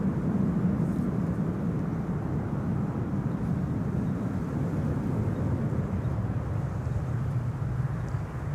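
An airplane on approach to Amsterdam Schiphol's runway 06 passes overhead, giving a steady, loud, broadband roar with a deep rumble that holds evenly through the whole stretch.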